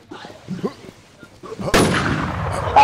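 Gunfire in the survival game WarZ cracks in loud and near after a few quiet moments of murmured voices, then a sustained booming roar and a sharp high ring follow.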